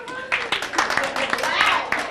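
Comedy club audience of married people clapping in response to a comedian's poll, a brief scattered burst of applause lasting about two seconds with some voices mixed in.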